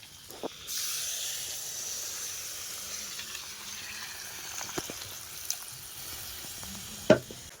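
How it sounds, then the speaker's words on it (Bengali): Water poured into a pan of hot chicken curry sets off a loud hiss that jumps up near the start and keeps sizzling steadily, with a few soft knocks and a sharp clink close to the end. "এই দেখো জল ঢেলে দিচ্ছি"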